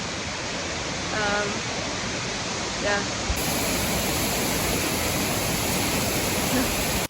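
Steady, loud rushing water from a large waterfall in Scotland roars throughout, with a brief voice and faint whistle-like tones over it.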